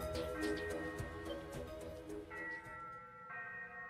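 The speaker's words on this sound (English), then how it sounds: "The ship's bell?" A ship's bell in the Ys VIII: Lacrimosa of Dana video game clangs in a series of resonant metallic strikes with lingering ringing tones, moderately loud and alone.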